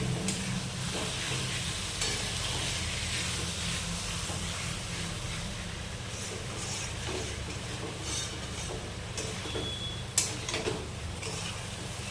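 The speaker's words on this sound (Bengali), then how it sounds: "ডিম আলুটা আমাদের ভালো করে কষানো হয়ে গেছে।" Egg and potato frying with spices in a pan, giving a steady close sizzle with occasional stirring clinks and one sharp tap near the end.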